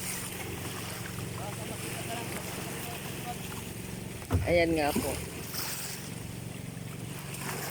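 Small fishing boat out on the sea at Limay, Bataan, with steady wind and water noise around the hull, and a voice speaking briefly partway through.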